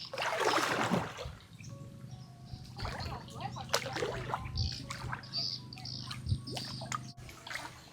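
Water splashes as someone bathes and swims in a river, with a loud burst of splashing at the start followed by smaller splashes, drips and trickles, while birds chirp in the background.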